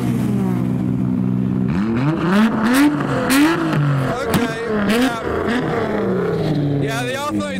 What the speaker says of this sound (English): Yeah, the R32 sounds even better.